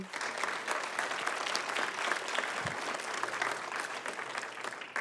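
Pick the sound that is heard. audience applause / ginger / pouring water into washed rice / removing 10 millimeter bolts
audience applause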